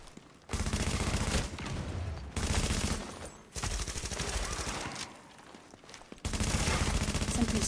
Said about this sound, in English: Some NPC's shooting me and he's not even looking at me.